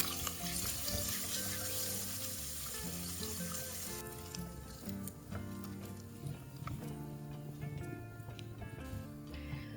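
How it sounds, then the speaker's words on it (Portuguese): Steady sizzling and crackling of bacon frying in hot olive oil, loud and close, with clinks and knocks of utensils through the pan. "Agora que o azeite já aqueceu, eu coloco o bacon."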